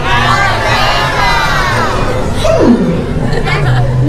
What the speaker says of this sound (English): everyone yell out where you're from on the count of 3